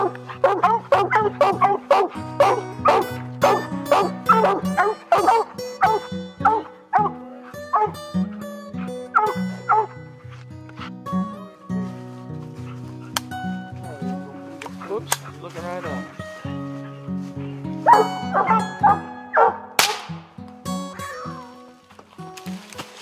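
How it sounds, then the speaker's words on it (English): Hunting hounds in the Ozark hills bark and bay at a treed raccoon, a pack sounding off in loud, repeated bursts close by, some yips and whines among the barking. "it was time for the dogs to get their reward."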